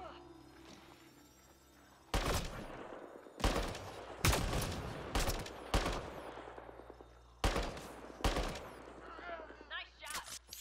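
Several loud, sharp gunshots from a sci-fi shooter in Mass Effect Andromeda, fired in separated bursts with ringing tails, following a quieter stretch with a voice speaking.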